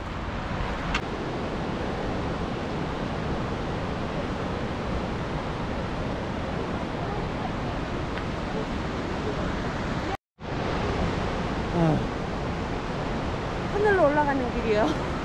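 Steady, loud broadband rush of Vernal Falls waterfall in Yosemite National Park heard from a hiking trail, continuous throughout with a brief cut near the end and faint voices and birdsong over the roar.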